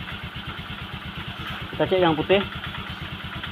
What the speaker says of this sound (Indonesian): Terus setelah itu motor hidup